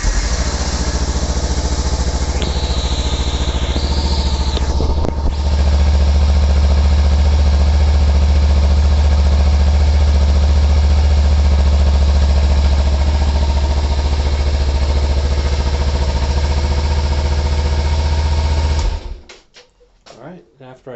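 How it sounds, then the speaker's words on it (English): A Kawasaki Ninja 300 on its stock exhaust idles steadily and close by, a low, even burble with a brief higher whine early on, before the engine cuts off near the end. "I just want to give a quick sound test of what the stock exhaust sounds like."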